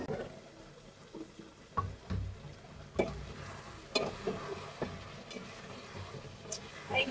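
Beef being braised in a pan on the stove is stirred, giving a soft sizzle with scraping clatters of the spoon against the pan that come in irregular bursts.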